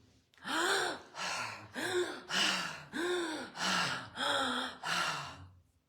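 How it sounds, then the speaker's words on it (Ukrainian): Powerful breaths in and out during a breathing exercise, seven strong rhythmic gasping cycles close to the microphone with short pauses between them. "І потім повернутися до потужного вдих-видих."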